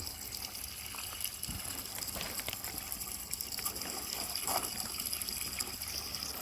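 Water pouring into the liner of a 30,000-litre garden pond under construction, a steady gushing and trickling flow that holds at the same level throughout, with no voices over it.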